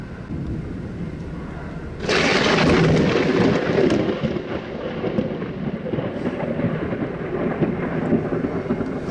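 Storm thunder from a lightning barrage, heard as a sudden loud crack that breaks into a long rolling rumble over steady rain, during a tornado-producing storm outbreak.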